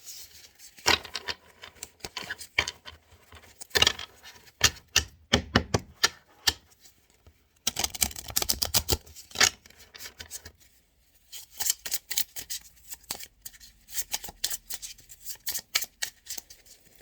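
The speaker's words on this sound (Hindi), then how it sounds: "लेकिन मैं फिर भी एक दफ़ा शफल कर लूँ" Tarot cards get shuffled by hand in repeated riffling and slapping bursts, crisp and close, with short pauses between rounds and a longer dense flurry midway.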